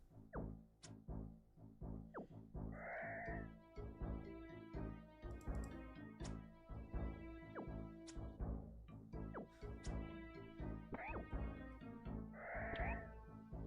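Sheep bleating in an online multiplayer game, a few short bleats rising over a steady bed of game music with repeated chimes and plucked tones; no talk.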